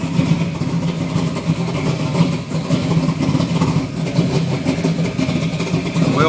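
A 1973 Camaro pro-street restomod engine idles after a cold start, a steady loud rumbling drone with a slightly uneven lope, heard close and continuous without talk.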